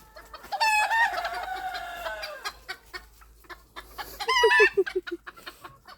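Chickens cluck loudly nearby in bursts, with drawn-out squawking calls and a quick run of clucks near the end.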